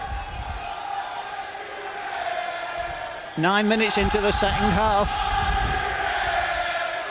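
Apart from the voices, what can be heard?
Hull Kingston Rovers rugby league crowd cheering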